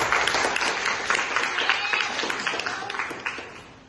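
A small group of students in a classroom claps together, a brisk patter of hands that fades gradually toward the end.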